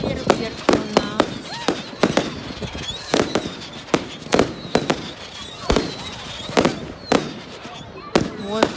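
Bonfire Night fireworks in England explode in a rapid, uneven run of sharp bangs and crackling bursts, some close and loud, with people talking between and under the blasts.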